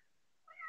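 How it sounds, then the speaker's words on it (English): A house cat gives a single short meow that rises out of near silence at the very end, brief and fairly faint, with no one talking. "That was my cat meowing."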